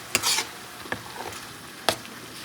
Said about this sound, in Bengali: মশলাটা কষানো হয়ে গেছে এর মধ্যে পেস্ট করা পালং শাকটা দিয়ে দিলাম